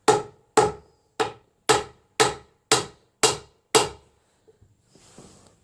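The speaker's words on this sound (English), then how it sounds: "We'll take our hammer here" A hammer knocks a universal joint cap out of an aluminum driveshaft from a 2010 Ford F-150 in eight sharp, evenly spaced metallic blows, followed by a short quiet rustle.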